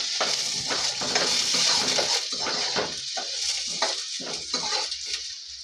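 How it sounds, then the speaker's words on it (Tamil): Large onions stirred and frying in a pan for a Tamil-style ivy gourd stir-fry, giving a steady sizzle with repeated scraping and clinking of a spoon against the pan, close and fairly loud. "இதை நம்ம நல்லா கிளறி விட்டுக்கலாம்."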